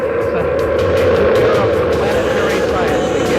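Space Shuttle Atlantis lifting off on STS-30 with its main engines firing, a dense, loud, continuous roar filling the whole moment with no break, a voice faintly over it.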